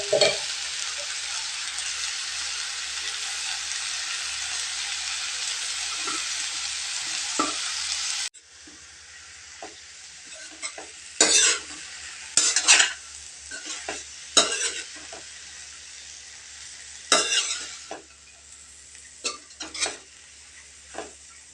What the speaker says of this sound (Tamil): நல்லா புரட்டி புரட்டி கிளறி எடுத்துக்கலாங்க